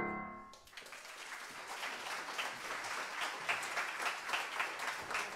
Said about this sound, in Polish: Mimo braku długich nut, oklaski długie.